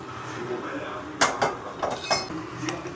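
A spoon clinks against a cup while honey is stirred into a homemade cough remedy, a few sharp metallic taps close by over quiet background noise.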